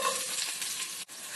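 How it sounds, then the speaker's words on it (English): Chopped onion and a bay leaf frying in hot cooking oil for biryani, a brief, steady, close hiss of sizzling with one short dip near the end. "Fry a little bit and then add turmeric powder"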